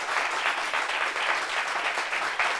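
Studio audience on a French talk show applauds a newly introduced guest, dense steady clapping that stays loud and even throughout with no talk over it.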